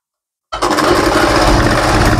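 A sewing machine runs steadily after a short silence, stitching along both sides of green fabric, loud and close with a continuous mechanical whir.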